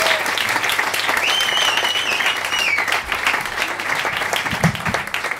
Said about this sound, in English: Come on, you're allowed to applaud.